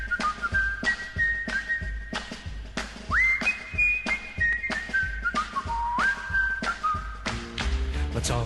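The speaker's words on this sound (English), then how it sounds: "Let's all go along and whistle a song the way the happy whistler goes." A cheerful whistled tune from a show's theme song, carried by one clear, loud whistler in steady melodic phrases with slides between notes, no talk.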